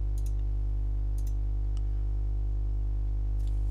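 Computer mouse clicks, a few sharp, quiet clicks spaced apart, heard over a steady low electrical hum.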